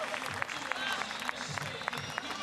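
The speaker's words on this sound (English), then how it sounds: "can I please have one big, big round of applause for all of the riders you've seen today." Crowd applause for street BMX riders at the Vans Rebel Jam, a distant, steady wash of clapping and crowd noise with occasional sharper individual claps and faint talk underneath.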